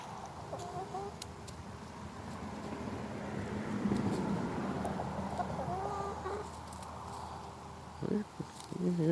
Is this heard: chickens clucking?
yes